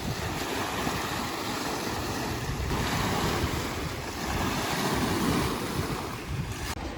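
Choppy water on Lake Atitlán at San Marcos, Guatemala, sloshes and splashes continuously under gusty wind rumbling across the microphone, close and fairly loud, with no voices.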